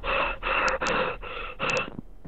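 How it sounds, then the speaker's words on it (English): Heavy, rhythmic breathing over a game voice chat in Battlefield 4, with about four long, loud breaths through a compressed, band-limited microphone, close to the mic and with no talking. "Just heavy breathing."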